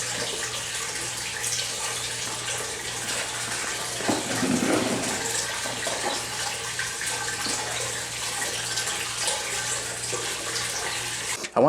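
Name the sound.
tap water filling an aquarium tank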